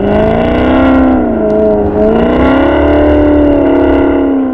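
A car with a Ferrari-based 4.7 litre engine accelerating in sport mode, a loud, continuous, tuneful engine note rising and falling in pitch through the gears, close and alone.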